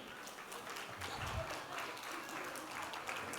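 An audience at a children's church retreat applauds prize winners, a moderate continuous patter of many hands clapping with a faint voice underneath.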